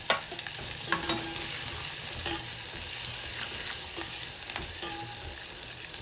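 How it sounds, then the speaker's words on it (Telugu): Chopped green chilies, onion and curry leaves fry in hot oil, giving a steady sizzle with occasional clinks and scrapes from stirring. "ఇప్పుడు మనం తరిగి ఉంచుకున్న పచ్చిమిరపకాయ ముక్కలు, ఉల్లిపాయ ముక్కలు, కరివేపాకు వేసి వేయించుకోవాలి."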